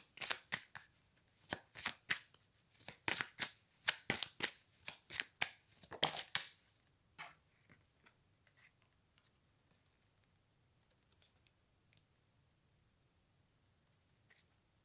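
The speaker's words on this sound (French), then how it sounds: "On me dit qu'on prend une dernière carte." Tarot cards riffle and snap in a quick, dense run of shuffles at close range, then give way to a few soft, sparse taps and slides as cards are drawn and laid down in near silence.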